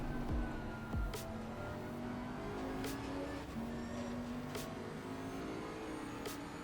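A race car laps Brands Hatch in Assetto Corsa Competizione, its engine holding a steady, sustained drone with shifting pitch as it drifts wide through a corner, alone without talk.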